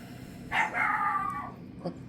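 A dog gives one drawn-out howl indoors at a woman, rising then wavering for about a second, followed by a short yelp; fairly close, with no talk during it.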